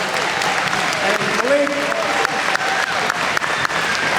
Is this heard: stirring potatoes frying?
no